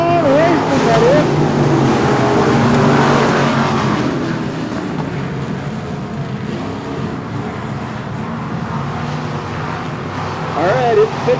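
Race cars roar off the start at Texana Raceway Park during the 2017 Summer Showdown, a loud dense engine rumble that swells then settles into a steady drone, with an announcer talking over it.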